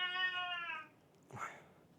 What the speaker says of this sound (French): j'ai le chat là qui fait que gueuler